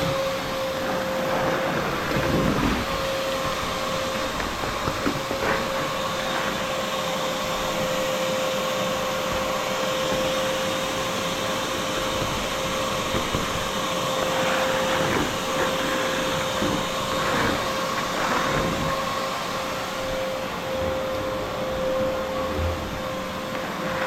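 Vacuum cleaner droning steadily while sucking up salty grime, its constant tonal whine broken by scattered knocks and bumps as the nozzle moves around.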